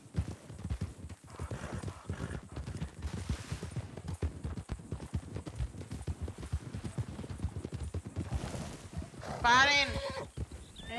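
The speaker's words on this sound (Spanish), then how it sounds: "Un caballo." Horse hooves clip-clop steadily on a ranch in a role-play video game, with a short neigh or whinny near the end while several people talk over the sound.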